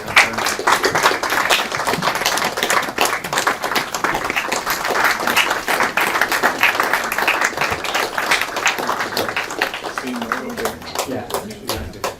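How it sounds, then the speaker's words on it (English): Sustained, dense applause from a large crowd at a UN General Assembly education event, greeting the President of Liberia; steady clapping fills the full stretch at close range with no pause. "give a massive round of applause to the President of Liberia"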